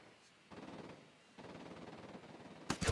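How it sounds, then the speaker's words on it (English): Gunfire in the tactical shooter Ghost Recon Wildlands: muffled rattling bursts in two stretches, then a sharper, louder close burst at the end, with no talk. "Opening fire on these shitheads."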